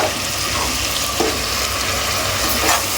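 Chopped tomatoes frying in a pan on a stove over a medium flame, with a steady, fairly loud sizzle and crackle and faint stirring scrapes throughout, with no voices.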